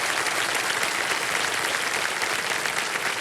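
A game show studio audience bursts into loud, dense applause, a continuous close patter of many hands clapping throughout.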